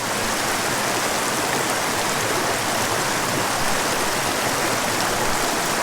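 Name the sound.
creek water flowing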